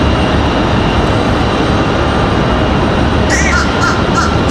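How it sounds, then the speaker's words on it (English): Crows caw a few times in the distance near the end, over a steady roar of background noise beside an airport runway at Raleigh-Durham International. "These crows up here crack me up."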